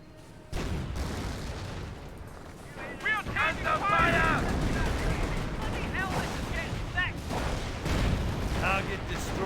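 Gunfire and artillery in the video game Company of Heroes, a sustained barrage of booming impacts and crackling rifle and machine-gun shots, fairly loud and layered, with game voice lines mixed into the din.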